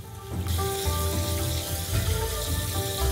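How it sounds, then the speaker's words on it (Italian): Cold tap water running over cooked noodles in a colander, a steady close gushing stream that starts abruptly and continues evenly with no voices. "Ora laviamo con acqua fredda."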